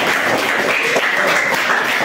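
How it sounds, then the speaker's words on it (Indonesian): Students applaud in a classroom during a physical education lesson, a dense, even wash of many hands clapping together that holds steadily at a fairly loud level for about two seconds. "Oke, beri tepuk tangan."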